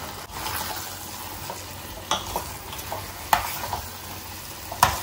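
Steady soft sizzling of fenugreek leaves frying in a pan, punctuated by a few sharp scrapes and clicks of stirring.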